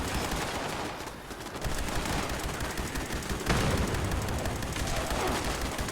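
Rapid gunfire in Fallout 76, dense bursts of shots firing against super mutants, loud and close with near-continuous automatic crackle and heavier booms mixed in.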